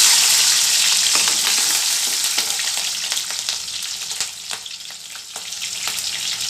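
Chana dal and green chilies frying in hot oil for dosa potato sagu, a loud, close, continuous sizzle with faint stirring scrapes that eases slightly toward the end, no talking.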